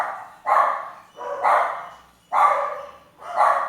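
Dogs bark in four long, loud bursts at a fairly even pace, each bark smeared and rough, with short pauses between and no talk over them.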